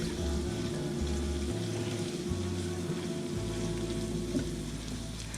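Potatoes and onions frying in a pan on a stovetop give a steady, close sizzle and crackle, with a low constant hum underneath and no talking.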